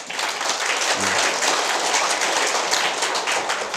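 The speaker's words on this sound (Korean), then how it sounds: "고맙다고 박수 한번 쳐보세요." An audience at a group communication workshop breaks into applause, a thick continuous patter of many hands clapping evenly for the whole stretch.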